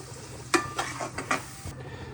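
Coconut pulihora being stirred in a pan, a few scraping stirs with a soft sizzle of frying underneath, close and moderately quiet.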